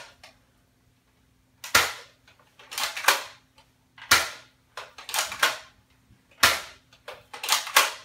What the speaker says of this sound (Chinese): 例如我们现在有一颗子弹在枪里，我们转它